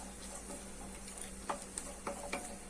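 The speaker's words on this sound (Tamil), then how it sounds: "இது வந்து முந்திரி கொஞ்சம் லைட்டா வறுபட்டுது." Cashews fry lightly in a pan with a soft, low sizzle, broken by a few distinct clicks and scrapes of stirring; quiet and close, with a faint steady hum beneath and no talking.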